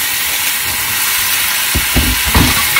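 Pear pieces dropped into melted butter in a frying pan over very low heat, a steady soft sizzle with a few louder bursts of crackling toward the end as the fruit hits the pan.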